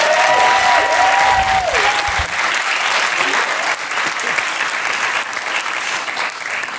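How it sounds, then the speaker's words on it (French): A television talk-show studio audience claps loudly and continuously, a full dense burst of applause, with a brief musical tone sounding over it at the start. "ça peut s'applaudir très fort"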